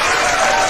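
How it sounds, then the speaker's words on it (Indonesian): Short burst of dense applause from a debate audience, loud and close, hands clapping in a continuous wash with no pauses. "Tepuk tangan, menurut Bunda tepuk tangan dulu."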